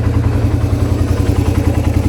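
A Suzuki Raider 150 motorcycle engine idles steadily as it warms up, with a close, even low rumble and a light mechanical clatter throughout, and no one speaking.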